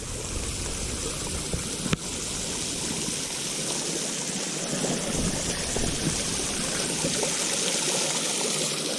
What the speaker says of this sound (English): here is that rock wall where the water's falling off of it